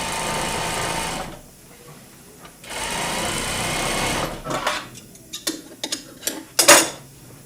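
A sewing machine stitches piping for an Arts & Crafts chair's upholstery, running in steady whirring bursts with pauses, followed by a few clattering handling sounds.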